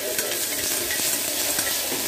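Ginger-garlic paste and green chillies fry in a pan, giving a brief, even sizzle with soft stirring scrapes close by.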